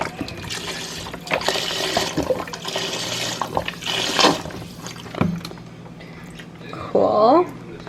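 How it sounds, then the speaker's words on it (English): Thirty-two ounces of vegetable broth pours into a cooking pot in a steady, splashing liquid rush that runs for several seconds, with a person talking over part of it. "Add the whole vegetable broth in."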